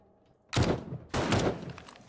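Gunfire in the video game 7 Days to Die: two loud, close bursts of shots about half a second apart after a quiet start, each trailing off with a short rumble.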